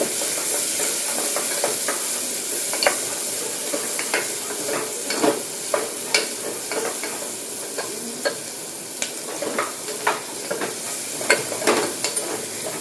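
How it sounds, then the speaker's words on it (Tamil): Onions and cardamom sautéing in a hot pan give a steady, close sizzle, broken by frequent clicks and scrapes of a spoon stirring throughout. "நல்லா வதக்கி எடுத்துக்கலாம்."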